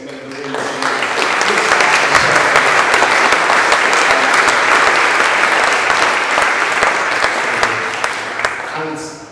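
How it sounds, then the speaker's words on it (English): A conference audience at a social care event in Manchester breaks into a big round of applause. The clapping swells quickly, holds loud and dense for several seconds, then tapers off, with little talk over it. "I just want everyone to give a big round of applause"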